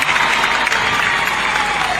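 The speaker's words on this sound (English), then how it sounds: "another round of applause for the President of the Republic of Zambia" Audience applause at a special convocation investiture ceremony, honouring the President of the Republic of Zambia: dense, steady clapping from a large crowd, loud and sustained throughout.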